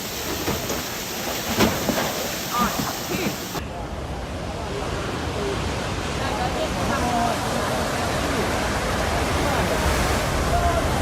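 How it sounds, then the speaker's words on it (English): Rainwater pours through a collapsed shopping mall ceiling in a loud, continuous rushing roar like a waterfall, with voices and crowd noise mixed in under it. "Water poured down like a waterfall, engulfing the walkway, sending shoppers running in panic."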